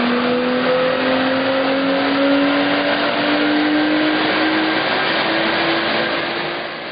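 A car engine revs hard on a dynamometer with no intake filter fitted, a loud sustained roar with pitch climbing steadily before it eases off at the end.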